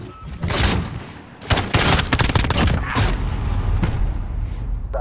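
Rapid bursts of SMG DMR gunfire in Call of Duty Modern Warfare, loud and close. A short volley is followed by a pause and then a longer stretch of fast, dense shots.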